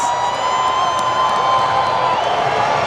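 Stadium crowd at a Sporting Jax versus Louisville City soccer match reacting to a near-miss header, a loud sustained roar of massed voices filling the space without a break.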